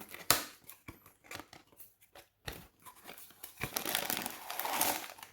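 Close crinkling and tearing of a thin gold tea packet, with sharp rustles and snips in irregular bursts and brief quiet gaps.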